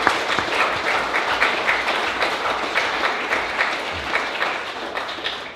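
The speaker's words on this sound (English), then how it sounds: "let's give a round of applause for Dan and Nancy" Audience applause at a city council campaign kickoff, dense steady clapping from a crowd that holds for several seconds with no pauses.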